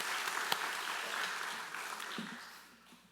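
A church congregation applauds at an evangelism gathering, a dense wash of clapping from many hands that stays steady and then fades out.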